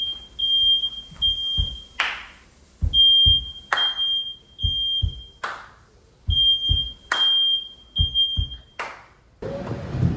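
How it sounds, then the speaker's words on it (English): Shrill smoke alarms beep in repeated bursts, interrupted by loud sharp thumps and rustling, close and piercing throughout. "Smoke alarms are blaring."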